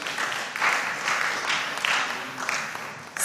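A crowd applauds a school team at a quiz competition with steady, dense clapping that swells in a few waves and keeps going throughout.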